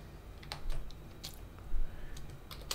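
A password being typed on a computer keyboard: a handful of soft, close key clicks in an uneven rhythm over quiet room tone, with no voices.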